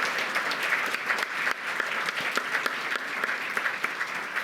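Gala audience applause for military families, a sustained, fairly loud wash of many hands clapping with a few sharper individual claps standing out, running the full length without speech.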